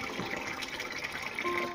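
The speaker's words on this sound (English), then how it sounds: "I'm going to pour it in each of the tank." Bitter leaf water is poured from a bowl into a catfish tank, giving a steady splashing gush that runs continuously for under two seconds.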